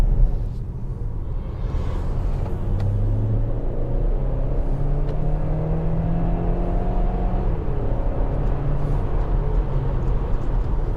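A Dongfeng Aeolus Huge car driving on the road, its engine a steady, quiet low rumble with soft whirring tyre and road noise throughout, no voices.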